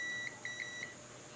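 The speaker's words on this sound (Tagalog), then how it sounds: "continuity check tayo doon sa may jumper wire" A multimeter's continuity buzzer checking a jumper wire on a Centrix 21-inch CRT television, giving a few short, high electronic beeps in quick succession in a quiet room.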